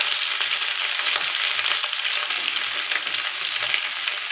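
Ginger-chili paste and cumin powder hit hot oil over medium heat, giving a steady, loud, bright sizzle that runs evenly throughout with no talking.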